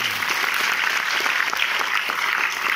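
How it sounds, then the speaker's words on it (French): Audience in a cinema hall applauding a producer, steady dense clapping from many hands, fairly loud and continuous throughout with no voices over it. "mais vous pouvez l'applaudir, il est par là."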